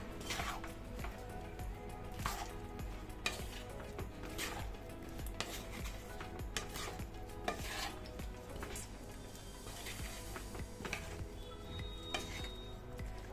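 Red chilli powder being stirred into a dish in a pan with a utensil, giving steady scraping and clinking against the metal over a low sizzle that continues throughout, close and moderately loud, with no speech.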